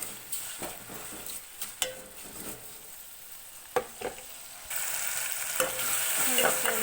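Tomato and onion cooking in oil in a pan, steady sizzling with repeated scraping stirs and knocks of a ladle, growing louder and hissier toward the end, close up with no voices.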